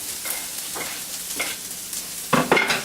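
Onions sizzle in an oiled frying pan while a spoon stirs and scrapes in short bursts, the frying louder near the end.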